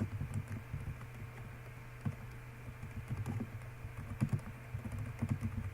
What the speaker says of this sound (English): I can just simply tediously type all these flags out.